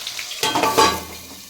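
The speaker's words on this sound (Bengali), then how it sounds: "আলুটা এবার ঢাকা দিয়ে দিচ্ছি, ভাজা ভাজা হোক" Potatoes frying in a covered pan for a fish curry, a short burst of sizzling and clattering stir sounds that rises sharply, peaks, then fades to a quiet hiss.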